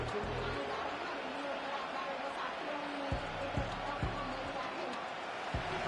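Stadium crowd noise from a Madden football video game, a steady roar swelling as play reaches third down, running continuously under commentary with a few dull thuds.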